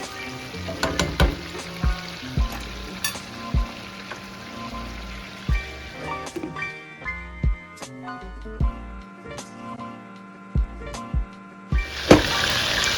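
Shrimp, crab and lobster for a homemade seafood boil cook in a pan after being flipped, with a soft frying sizzle beneath repeated sharp clacks and knocks of utensils against the pan.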